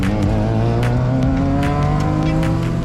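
Toyota MR2 on track at VIR during a track day, engine droning loud and steady at high revs with strong harmonic tones, faint tire noise throughout, close and continuous.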